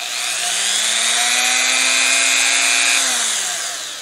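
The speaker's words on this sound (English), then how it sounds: "now we've got this power tool, rotary power tool connected" A small rotary power tool, powered by a homemade solar power station, whirs steadily at a high pitch, spinning up, holding speed for a few seconds, then winding down.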